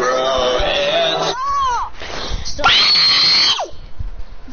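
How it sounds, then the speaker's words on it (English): A loud human scream in two long, strained bursts separated by a short gap, close and harsh, with a trailing breathy cry at the end. "That was my quietest scream."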